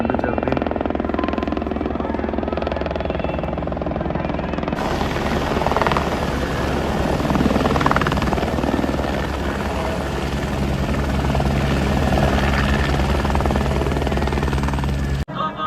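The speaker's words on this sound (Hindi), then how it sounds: "सुबह का पहला हेलीकॉप्टर आ चुका है" A helicopter flies along the Amarnath Yatra mountain route, its rotor chop and turbine roar loud and continuous, swelling as it passes close, with people talking faintly beneath.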